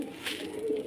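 Pigeons coo softly at a pigeon house under construction, a brief, close, low murmuring call with a faint hiss of background air.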